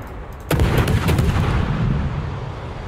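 Naval guns fire a salvo in World of Warships from a cruiser, a sudden heavy boom followed by a long rumbling roar that slowly fades, with light mechanical clicks just before.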